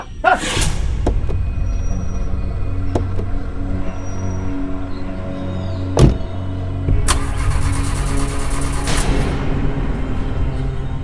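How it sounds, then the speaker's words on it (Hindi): A car engine cranking and failing to catch because of a dead battery, with loud repeated starter whirring bursts and clunks over a steady engine-like rumble and no voices. "क्या हुआ, गाड़ी स्टार्ट क्यों नहीं हो रही?"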